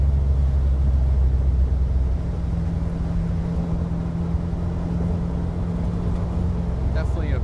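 A 1953 Allard K3 in British racing green with a Cadillac 331 V8 rumbles steadily on the road, its deep engine drone loud and close throughout, with a brief faint higher sound near the end.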